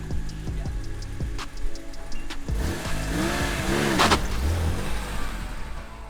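Manual BMW E46 M3 in limp mode driving back and forth, engine note rising and falling through revs with brief tire noise, moderately close, over a steady background hum, no talking.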